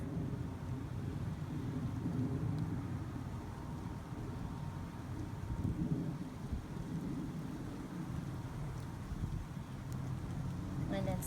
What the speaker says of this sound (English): It's raining, it feels so good.